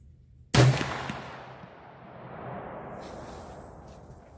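A single sharp rifle shot from a Smith & Wesson 1854 lever-action at an outdoor range, loud and close, followed by a long rolling echo that fades away.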